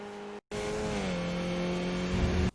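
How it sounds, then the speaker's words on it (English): A Skip Barber open-wheel race car in iRacing at Interlagos accelerates hard toward the last turn, its engine note droning loud and steady with a slow pitch sweep and no voices, broken only by a brief dropout near the start. "be early on the throttle to accelerate towards the last turn"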